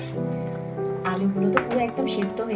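Potato, vegetable stalk and poppy seed curry bubbling in a pan as it comes to the boil, a steady close simmering sizzle with soft pops and stirring noises throughout.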